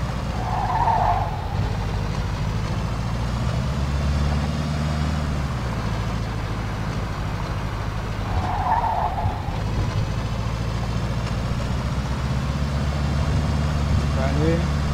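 Car engine drone and tire noise from driving in the video game Mafia II, with a steady low rumble throughout and brief skid squeals, while someone talks over it.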